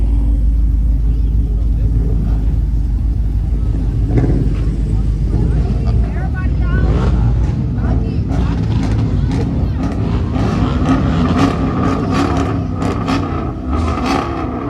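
Boosted car engine revving at a nighttime car meet, loud throaty rumble with repeated throttle blips building in the second half, under overlapping crowd chatter and shouting nearby.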